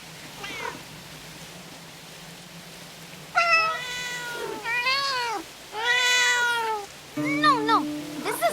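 Several cats meow in the video game Where Winds Meet, a series of clear, close, drawn-out meows and rising calls, some overlapping, after a quiet opening.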